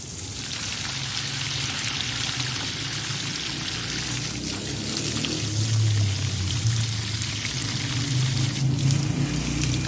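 Water pours steadily and continuously while potted plants in a home garden are watered, with the flow close and unbroken throughout.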